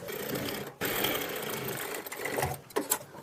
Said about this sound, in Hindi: तो हमने यहाँ भी सेम सिलाई लगा देना है।